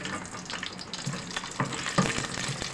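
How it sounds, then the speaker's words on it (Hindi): Cumin, whole chillies and nigella seeds crackle in hot oil, a light steady sizzle broken by a few sharper pops and stirring scrapes, close and fairly soft with no voices. "ऑयल गरम हो गया, इसमें हम ये मसाले ऐड करते हैं। ज़ीरा, साबुत मिर्चें और ये कलौंजी"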